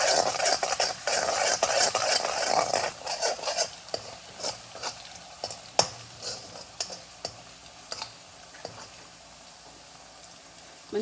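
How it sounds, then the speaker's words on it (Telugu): Chopped garlic frying crisp in a pan for garlic rice, a dense sizzle at first that thins out, broken by sharp scrapes and clinks of a spoon stirring against the metal, close and with no talk. "మంచిగా దగ్గర ఉండేసి మిక్స్ చేసుకుంటూ ఫ్రై చేసేసుకోవాలి"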